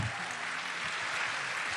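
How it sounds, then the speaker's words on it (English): A crowd at a live MLS All-Star event broadcast claps steadily, a dense even wash of applause that stays loud and continuous throughout, with no voices clearly standing out. "I don't know if that's a clap for Etihad or our next guest."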